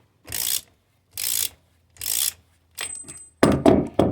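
A hand ratchet working a nut off the ball joint of a Polaris Sportsman 500 ATV, heard as three distinct bursts of rapid clicking followed by a louder, busier stretch of ratcheting and metal handling, close and without talk.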